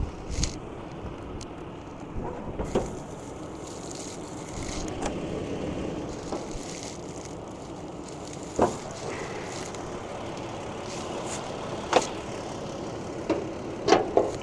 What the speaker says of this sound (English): We're just going to leave the engine running.